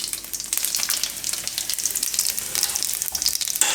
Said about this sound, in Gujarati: અને લાલ મરચાં તો આપણે એને તોડીને નાખીશું આ રીતે.